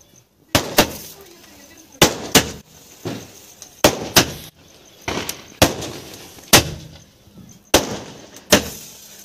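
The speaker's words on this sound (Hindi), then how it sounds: "और यहाँ पर हमारे पटाखों का कार्यक्रम स्टार्ट हो गया था।" Diwali firecrackers burst outdoors in a string of sharp, loud cracks, often in quick pairs, spaced irregularly over several seconds with echoing decay between blasts.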